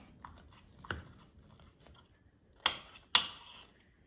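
A knife cuts through a crispy air-fried Trader Joe's Bambino pizza, with two sharp, close crunches in quick succession after a few quiet seconds of light handling.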